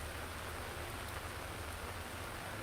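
Rain over flooded Mumbai streets after a heavy downpour, a soft, steady, even hiss of falling and running water, faint and continuous with no voices.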